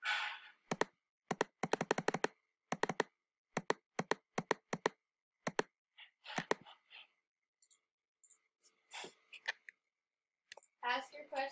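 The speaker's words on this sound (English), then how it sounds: "I am typing it." Computer keyboard typing comes in quick bursts of clicking keystrokes with short pauses between them, fairly close and clear, while a voice speaks briefly near the end.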